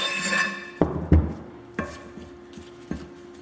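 A metal bearing retainer on a Dana D44/D35 axle of a WJ is knocked, giving several sharp clanking metallic hits spaced irregularly at close range, with fading ringing between them.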